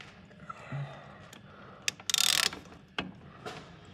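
A wrench works a broken bolt back and forth, giving faint mechanical clicks and a brief louder ratcheting rasp in the middle, close and quiet.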